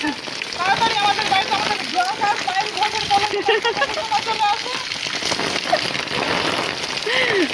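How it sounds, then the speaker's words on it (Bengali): Rain falls steadily and densely throughout, and a voice sings or talks in a lilting way over it. "একজন বৃষ্টিতে ঘুরে ঘুরে বৃষ্টির মজা নিচ্ছে"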